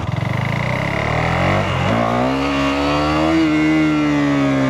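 A KTM Duke 390 motorcycle revving hard during a power wheelie, the engine pulsing at low revs then climbing into a loud sustained roar close by, no talking.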